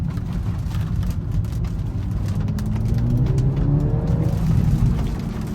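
A 2019 BMW 330i xDrive engine pulls hard under acceleration, its steady drone rising in pitch over the last couple of seconds, heard from inside the car over constant road noise.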